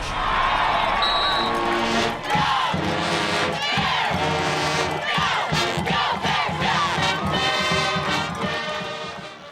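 A large homecoming crowd at a Kutztown University college football game roars and cheers loudly and continuously, with shouts rising over a steady wash of noise as music plays underneath.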